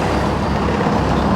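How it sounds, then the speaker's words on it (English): Steady, dense road traffic rumbles nearby in Kato Paphos, with trucks and buses passing on a busy street. The noise is continuous and loud, and no voices are heard over it. "Excuse the noise of the traffic though."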